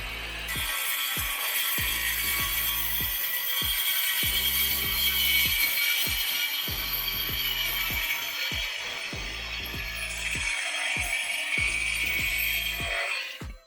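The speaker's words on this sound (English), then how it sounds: "This is the Bosch Professional GKM 18V-Li. It cuts through metal and does not create spark like an angle grinder." A Bosch Professional GKM 18V-Li cordless metal saw cuts through a steel tube, a steady high whine with a rapid regular clicking of teeth, close and loud, ending as the cut finishes.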